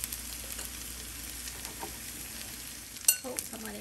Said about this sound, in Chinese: 依家咧剩低個五分鐘咧就係喺呢邊慢慢煎啦